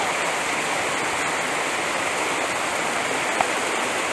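The Aurapani waterfall and its rushing stream make a loud, steady roar of falling and churning water close by, with no voices over it.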